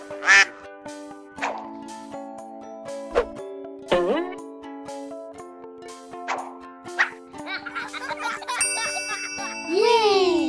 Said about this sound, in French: Un canard.